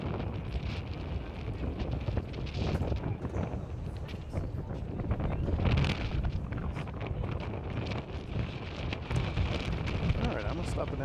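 Wind gusts buffet an outdoor microphone at a baseball game, a rough continuous rumble that swells and eases in gusts over the whole stretch, with faint talk in the background.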